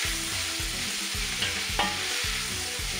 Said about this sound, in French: On va faire revenir les oignons dans la viande.